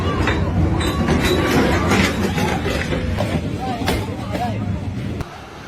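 A train emerges from a mountain tunnel, giving off thick smoke, with a loud, sustained rumble and rattle of the passing cars. Crowd chatter runs beneath it until the sound drops off near the end.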